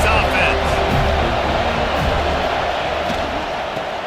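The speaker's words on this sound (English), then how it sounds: "This crowd trying to make life miserable for this offense." Stadium crowd noise from NCAA Football 26 video game, a steady broad roar that holds at an even loudness throughout, with a commentator talking over it.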